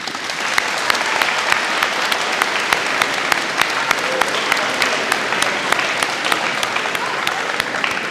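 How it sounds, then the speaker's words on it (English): Loud, sustained applause from an audience at a 7th grade academic awards ceremony at Celina Middle School, many hands clapping densely with sharp individual claps standing out, continuous for several seconds without talk. "Give them a round of applause."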